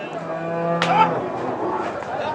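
A large bull at a Bangladeshi cattle market lets out one short, rising moo over a steady hum of background noise, close by.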